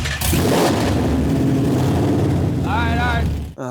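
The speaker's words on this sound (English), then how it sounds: "We had to rev it to get it started." A Cobra's engine revved hard during a start-up, a loud sustained roar with a sharp burst at the beginning, then a brief cut at the end as a voice cuts in.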